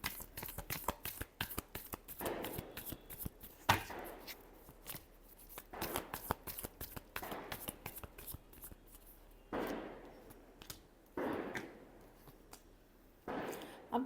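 Tarot cards being shuffled by hand, rapid riffling flicks in dense bursts separated by brief pauses and soft slides, close and crisp, with someone talking over parts of it.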